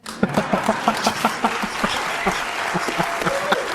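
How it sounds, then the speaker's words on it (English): A short burst of clapping from an audience, brisk and fairly close, with a voice briefly underneath. "Chris Cuomo was clapping"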